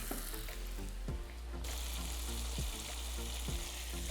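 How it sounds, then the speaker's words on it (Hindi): Yogurt frying in a pan for a spicy Banarasi chutney paneer dish, a loud continuous sizzle with rhythmic stirring scrapes about once a second, close and steady. "आपको लग रहा है दही फट रही है, बिल्कुल फट रही है, लेकिन जुड़ जाएगी। भूनते रहिए बस, रुकिए मत।"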